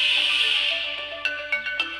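A phone rings in a Hindi-dubbed South Indian action movie, a bright electronic ringtone that starts strong, fades slightly and then gives three short chirps over a steady low background.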